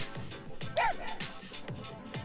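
A short dog vocalization from the Persona 3 Portable video game, a brief yip or bark that rises over the game's background music and ambience.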